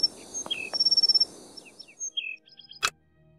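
A series of short chirping bird calls in a video game set at the Tower of London, high and clear, with a quieter rhythmic ticking underneath and one sharp broadband click near the end.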